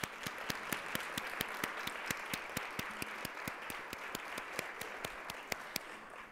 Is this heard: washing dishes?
no